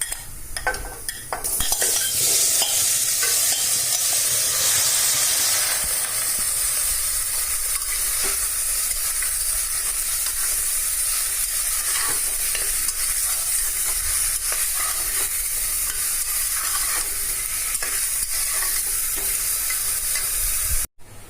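Meat fries in a pan with a loud, continuous sizzle and hiss. Frequent stirring scrapes and utensil clatter run throughout.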